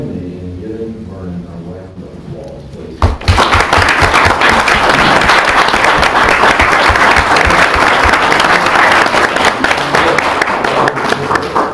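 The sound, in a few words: city council audience applause for Vernon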